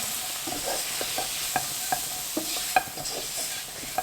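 Spiced food for kısır, seasoned with salt, cumin, thyme and red pepper flakes, is stirred in a pan over a steady sizzling hiss, with soft scraping and tapping strokes close by and no voices.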